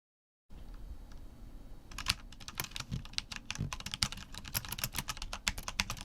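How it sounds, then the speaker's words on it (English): Close-up typing on a computer keyboard: rapid, irregular clacking keystrokes after a moment of silence, with no voices. "That's your keyboard. You're just mashing keys on it."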